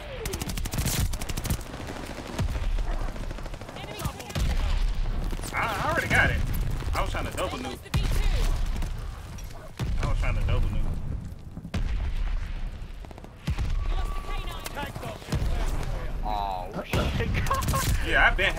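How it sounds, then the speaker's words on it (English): Gunfire and mortar fire from the Call of Duty: Vanguard shooter game, with the Cooper Carbine in play, rattle in loud repeated bursts and booms throughout, mixed with in-game voices and a player talking over it. "Friendly mortar fire coming."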